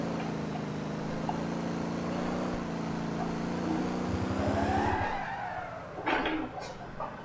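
A car drifts around a race track in the driving game Motor Town, its engine droning steadily before revving up in a rising sweep. Short bursts of squealing tyres follow near the end.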